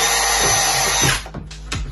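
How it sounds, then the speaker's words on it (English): A power drill bores a hole through the top of a plastic wheelie bin, a steady loud whine for over a second that then cuts out, followed by a few light knocks and handling sounds. "I'm going to just drill a hole in the back, the top,"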